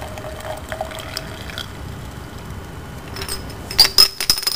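Liquid pours into a measuring cylinder in a lab, a quiet trickle that builds into sharper splashing and clinking near the end, close by with no talk.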